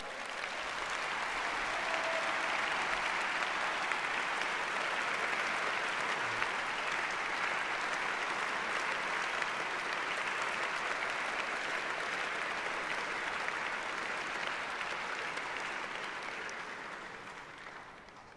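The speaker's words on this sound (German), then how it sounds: "Applaus" Sustained audience applause after Rainer Brüderle's opening political speech, a broad, even wash of clapping from a large hall that holds steady for around fifteen seconds before fading out.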